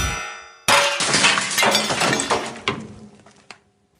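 A samurai sword slices through a metal bell, giving one sudden loud clang that rings and rattles for about three seconds before a final light clink and quick fade.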